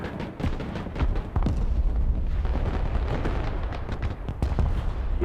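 Artillery fire in the war game Broken Arrow, a rapid barrage of heavy booms and sharp cracks overlapping in an irregular, dense rhythm, loud and close.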